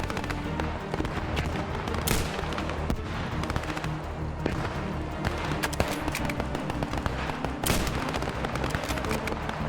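Dense, continuous battle noise from the video game Squad 44, with repeated sharp gunshot bursts and booming blasts, loud and busy throughout with no clear pauses.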